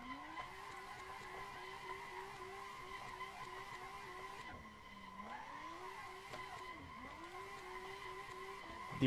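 Tofaş car drifting on a mountain road in Assetto Corsa, a steady engine drone under a continuous tire skid squeal with rising and falling pitch sweeps as the car slides, loud and close throughout.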